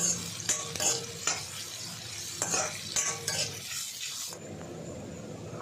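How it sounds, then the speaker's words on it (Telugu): Onions and green chillies fry in oil in a pan, a soft close sizzle under repeated clinks and scrapes of a spoon stirring against the metal, with no voices. "ఈ పచ్చిమిరపకాయలు ఉల్లిపాయలు అనేది ఫ్రై అవ్వాలి"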